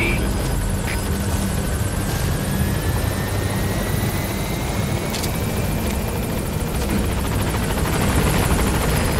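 A military helicopter from the video game Metal Gear Solid 5 arriving at a landing zone, its steady rotor thrum and engine whine loud and constant throughout, with a faint rising tone drifting over the roar.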